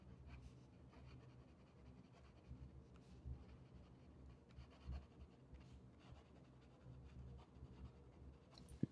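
A Platinum Curidas retractable fountain pen with a fine nib and pink ink writing fast on paper, a soft continuous scratching with quick stroke rhythms, close and quiet.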